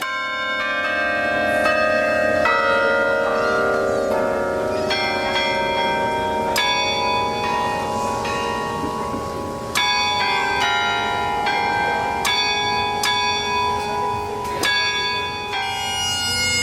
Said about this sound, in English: They had a carillon bell tower there, and he thought, oh, I want to get one of those.